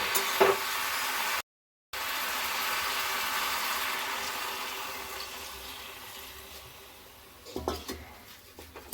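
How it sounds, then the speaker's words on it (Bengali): Water poured into a pan of pumpkin greens curry makes a steady, close hiss and splash that holds for several seconds before settling, with a brief cut near the start and a few clatters of a utensil toward the end. "এবার আমি 1 কাপের মতন জল দিচ্ছি সিদ্ধ হওয়ার জন্য"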